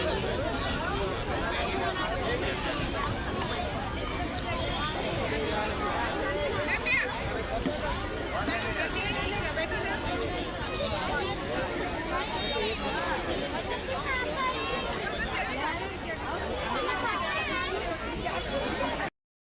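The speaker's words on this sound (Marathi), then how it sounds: "आता बघा किती गर्दी झाली आहे" Dense crowd hubbub of many overlapping voices fills a busy temple gathering at mealtime, steady and close throughout with no pauses.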